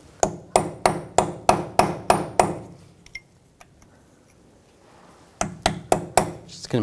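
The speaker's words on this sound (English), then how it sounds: "Just use a punch, and where it's peened over, you can just try to bend it back a little bit." A punch struck with a hammer against the peened-over nut of a front lower ball joint on a 2000–2006 BMW X5: two bursts of sharp, ringing metallic blows in steady rhythm, seven then five, separated by a quiet pause with faint taps.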